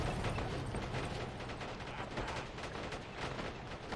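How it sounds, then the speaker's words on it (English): Machine-gun fire in the Call to Arms war game, with a gunner shooting at a BMP armored vehicle and a sniper in an Afghan village battle. A dense, continuous clatter of rapid shots and mechanical rattling holds steady throughout. "Seems the machine gunner is trying to fire at the BMP and the sniper."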